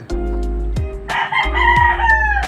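A young rooster, a stag being let out early in the morning at breeding season, crows loudly and close by, its call starting mid-clip and holding its long drawn-out note to the end.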